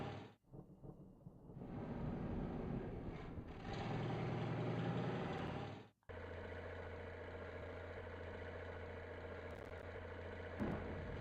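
A truck engine idles steadily in a video game, a low continuous rumble that drops out briefly partway through and then resumes.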